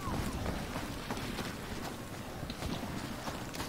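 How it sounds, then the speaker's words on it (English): Rapid, dense footsteps clatter continuously in the Star Wars Battlefront beta, a busy patter of impacts set against a noisy game backdrop. "Listen to those footsteps, mate."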